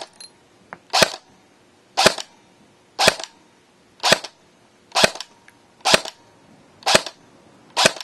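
A VFC SR635 airsoft carbine on a charged 9.6 V battery fires .2 BBs in eight evenly spaced single shots, each a sharp, loud, close crack about one second apart, with nothing else heard between them.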